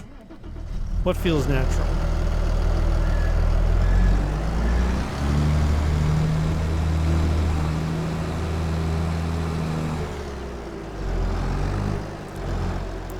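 A tractor engine in Farming Simulator 22 turns over and settles into a steady low idle and drone, held under near-continuous talk from a man.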